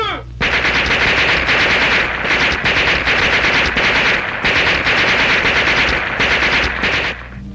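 Sustained bursts of machine gun fire rattle loudly and close, a rapid continuous stream broken by short pauses across several seconds, in a wartime setting with no talk over it.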